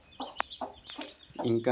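A sitting hen gives a few short, soft clucks close by, with a person speaking briefly in between.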